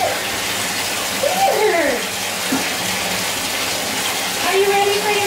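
A tap runs steadily, filling a bath for a puppy's first wash, a loud, continuous splashing gush, with a person talking over the water.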